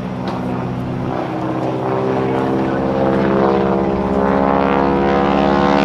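A heavy propeller airplane flown at the NAS Oceana airshow produces a loud, droning engine roar with a strong harmonic hum that swells slightly as it powers around overhead.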